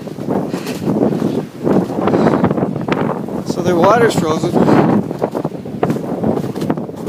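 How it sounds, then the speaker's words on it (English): Strong, gusty blizzard wind at minus 14 degrees roars steadily across the microphone while a person talks over it. "It's windy."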